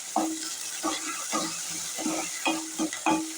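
Onions and green chillies are stirred in a hot pan, the spoon scraping in quick repeated strokes over a soft sizzle, close and alone.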